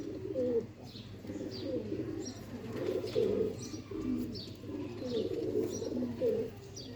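Sialkoti rooftop pigeons coo close by in a steady series of low, rolling, throaty phrases, one after another, with faint chirps in the background.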